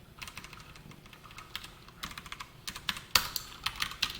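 Code being typed on a computer keyboard during a Java programming lesson, with irregular bursts of close, crisp key clicks and a sharper clack near the end, heard alone with no talk.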